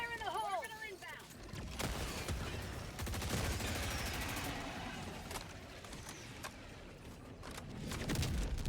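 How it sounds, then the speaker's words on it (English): Orbital barrage strikes in Helldivers, a string of loud booming explosions rolling through most of the stretch, with bursts of gunfire mixed in and players talking over the din. "Oh, that's a big barrage."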